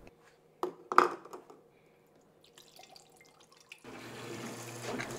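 Water mixed with antifreeze coolant pours into the reservoir of an xTool P2 55W CO2 laser cutter, heard as a few faint drips and splashes followed by a steady trickling fill toward the end.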